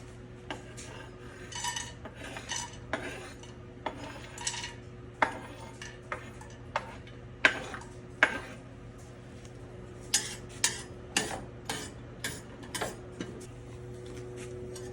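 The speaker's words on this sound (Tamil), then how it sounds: "நெய் காஞ்சதும் முந்திரி பருப்பை போடணும்." Cashews frying in ghee are stirred in a pan, giving light, irregular metal clicks and scrapes of a spoon against the pan, spaced every second or so over a soft low background hum, with no talking.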